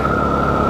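A KTM 390 Duke motorcycle engine idles steadily after its throttle body has been cleaned, with a smooth, constant hum and a sustained tonal whine, close and loud with no voices.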